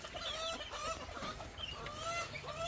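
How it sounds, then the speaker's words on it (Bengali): A flock of chickens drinking water together after an afternoon feed clucks softly, with scattered short rising calls overlapping in a quiet, fairly faint farmyard scene. "সব মুরগিগুলো।"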